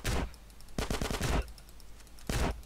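Shotgun blasts from the video game GTA San Andreas: three loud, booming shots spaced about a second apart, each with a short ringing tail. The middle burst comes with a quick rattle of smaller reports.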